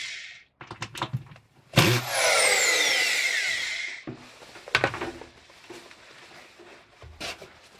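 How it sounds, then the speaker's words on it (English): A power drill drives screws into DensShield tile backer board during a bathroom remodel. It starts with short taps and clicks, then a loud, close whine runs for about two seconds, followed by more brief clunks and handling knocks. "so the screws are installed in this first board"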